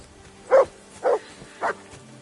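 Three short, evenly spaced barks from a dog in the medieval open-world game Kingdom Come: Deliverance II, moderately close and clear over a quiet backdrop.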